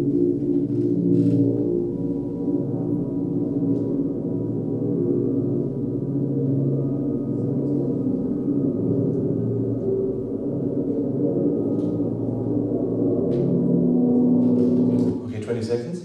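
An electric instrument run through a granular synthesizer forms a dense, continuous droning texture of layered tones, steady in loudness and grainy throughout, with brief clicks near the end.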